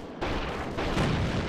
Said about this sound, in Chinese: 我只听到一个枪声哎